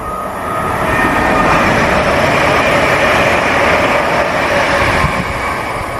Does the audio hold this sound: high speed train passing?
yes